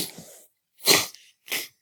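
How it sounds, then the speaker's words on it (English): Three sneezes in a row, the first muffled and quieter, the next two loud, sharp and close, each a short burst with brief silences between. "hope that sneeze didn't get into this video"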